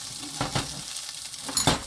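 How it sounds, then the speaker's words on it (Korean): Ham stir-frying in a pan over heat that has been turned down from high, a steady close sizzle broken by a few sharp scraping stirs near the start and end. "처음에 센 불로 하다가 불을 약간 줄여서 이렇게 노릇하게 볶은 다음에"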